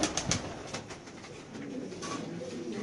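A large Turkish tumbler pigeon coos softly nearby in low, rolling calls, with a few brief bursts of sound at the start.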